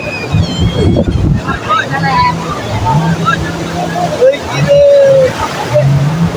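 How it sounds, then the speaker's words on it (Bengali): Waves roll and wash in at Cox's Bazar beach, a steady windy surf roar close by, with people talking over it. "বিশাল বড় একটা ঢেউ আইতেছে"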